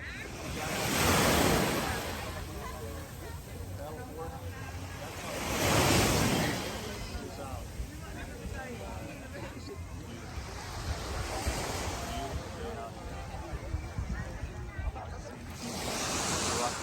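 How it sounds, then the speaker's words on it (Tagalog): Surf breaking on a Boracay Island beach, with swells rolling in loudly about every four to five seconds over steady wind buffeting the microphone. "here we are, day 2 on the beach"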